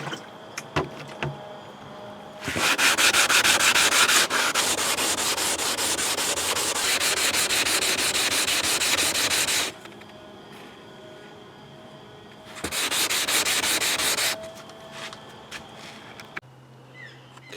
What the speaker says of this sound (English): Next up is silicon carbide 220. Much finer. And we'll do this wet.